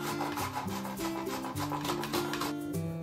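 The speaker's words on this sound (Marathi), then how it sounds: "एक कैरी मस्त अशी किसून घेतली आपण, साली सकट कैरी किसलेली आहे" Raw mango is grated with its peel still on, giving a steady rhythmic rasping scrape, close and fairly quiet with no talking.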